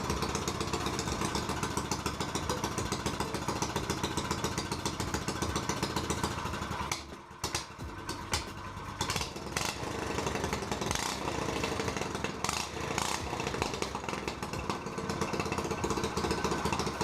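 Predator 212 Harbor Freight engine swapped onto a cheap Yamaha dirt bike, running loud and close with a continuous rough mechanical roar, a brief dip around midway, then revving and pulsing onward.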